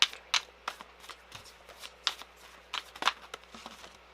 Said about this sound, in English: I might actually shuffle you guys out a few more cards